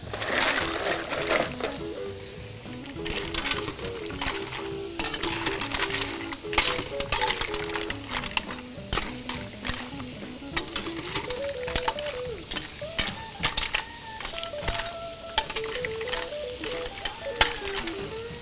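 Mussels, cracked whole garlic cloves and lightly caramelized fennel cooking in a pan on a REC TEC grill, a continuous sizzle with clinks and scrapes of stirring and shells shifting, under a faint background tone.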